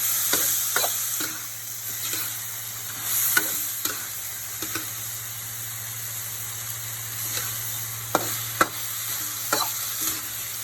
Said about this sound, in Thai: เราผัดทุกอย่างให้เข้ากันดีนะคะ